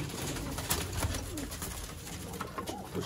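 Teddy pigeons coo softly nearby, a few low throaty calls repeating over a dense background hum.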